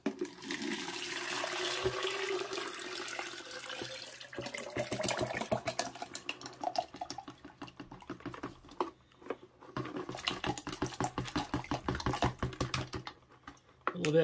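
Slaked clay slurry pours into a container in a steady wet, gurgling stream, followed by a run of irregular sloshing and spattering as the messy mixture settles, with no talk over it.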